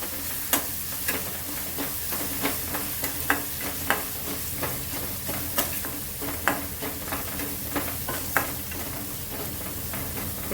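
Coarsely crushed coriander seeds and curry leaves sauté in hot oil in a pan, giving a steady close sizzle broken by frequent light scraping taps of stirring.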